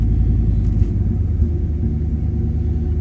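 A Chevrolet Silverado 5.3 engine running a ghost cam tune idles with a loud, deep, steady rumble close by. The idle has a slightly uneven, choppy pulse. No one is talking.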